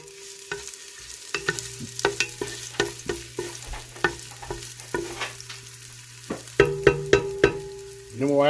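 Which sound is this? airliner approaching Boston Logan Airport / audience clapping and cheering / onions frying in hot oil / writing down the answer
onions frying in hot oil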